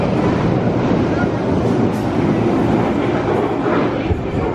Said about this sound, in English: When there's a really fast train coming like that, I've noticed they give you a little friendly warning peep before it comes.